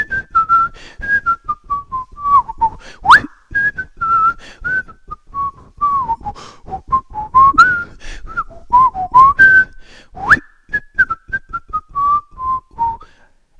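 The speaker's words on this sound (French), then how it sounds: "est-ce que tu es capable de siffler, toi?" A person whistling a melodic tune alone, clear and close, with repeated descending phrases and brief upward swoops, loud and steady for over ten seconds.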